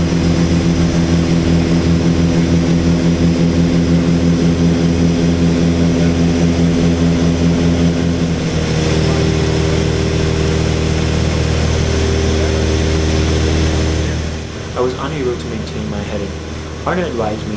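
Piper Seneca twin-engine propeller airplane in flight, its engines droning loud and steady, the tone shifting partway through as one throttle is pulled back, then softening; speech is heard under the drone toward the end.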